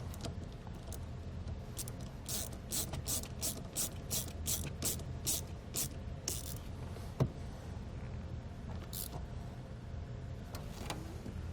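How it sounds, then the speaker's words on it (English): A hand ratchet cranks in rapid bursts of clicks while tightening a battery cable nut during a battery disconnect install on a 2019 Ford Explorer, fairly close with no talk over it. "You can just take the nut that we took off and get these tightened back down."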